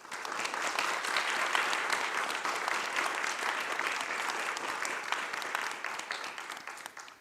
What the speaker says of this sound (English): So why don't we give you all a round of applause.